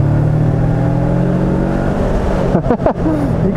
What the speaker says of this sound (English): Just drop down to go up this hill